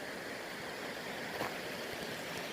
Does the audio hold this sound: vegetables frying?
no